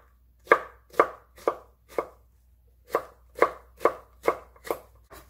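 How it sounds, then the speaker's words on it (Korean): A knife cuts firm zucchini into thin julienne strips on a cutting board, with about ten crisp, evenly spaced chops in two close, steady runs separated by a short pause. "채썰어 주세요."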